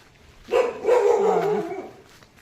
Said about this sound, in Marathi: इथं मस्त की कुत्रा स्वागत करतो आपलं